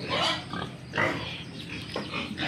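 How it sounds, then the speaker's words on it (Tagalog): A sow that has just given birth grunts and snorts several times in short rough bursts, close by on a farm in Cagayan Valley, with no talking. "At nandito ang baboy ng aking hipag."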